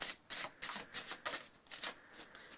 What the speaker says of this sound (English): what you would do is you would do an overhand shuffle, and you would drop some cards